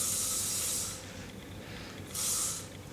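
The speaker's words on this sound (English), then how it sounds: "Just going to give it a little bit of spray" Hairspray misted onto hair being prepped for a ponytail during a makeup session, two close, steady hissing bursts of about a second each separated by a short pause, with no talking.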